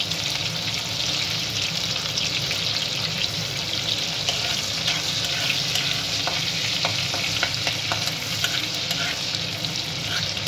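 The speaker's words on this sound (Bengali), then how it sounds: "এবার ওতেই অল্প আদা কুচিও দিয়ে দেবো" Chilli chicken frying in a pan with a little chopped ginger added, giving a loud continuous sizzle close by with light stirring clicks and no voices.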